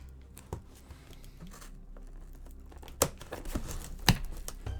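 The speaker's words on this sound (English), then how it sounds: "Just need to get my scissors in there a little bit." Scissors cut into a well-packaged cardboard box during an unboxing, with sharp snips and crinkling, tearing packaging noises coming in scattered bursts close by.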